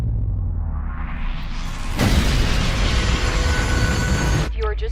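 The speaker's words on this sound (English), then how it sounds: "enjoy the explosions, the fight scenes, and the hilarious chemistry between Fox and Tatum" Big cinematic explosions from the action film White House Down: a rumbling whoosh that builds into a loud, sustained blast roaring for a couple of seconds before it cuts off abruptly.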